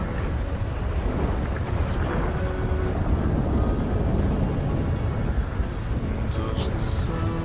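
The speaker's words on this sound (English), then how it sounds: "Okay, apparently thunderstorms are back." A thunderstorm rumbles with steady heavy rain in GTA 5, a video game, forming a dense, loud, unbroken roar of low rumble and wash throughout.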